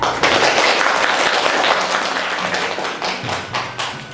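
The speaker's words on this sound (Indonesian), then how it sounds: "Tepuk tangan untuk kelompok 2." A classroom group gives a dense, loud burst of applause for a student team, with many hands clapping together at a steady level for several seconds before thinning slightly at the end.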